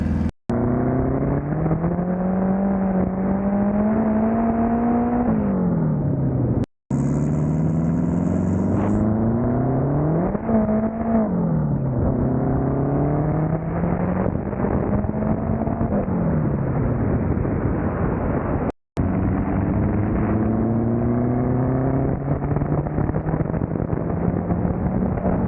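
A turbocharged K20-engined Honda Civic accelerates hard, the engine note rising through repeated pulls with brief gaps as gears change, loud and close throughout with no talk.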